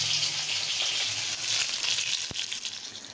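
Fish frying in a pan, a loud continuous sizzle and crackle close by, with a single sharp knock or scrape partway through and the hiss easing slightly toward the end.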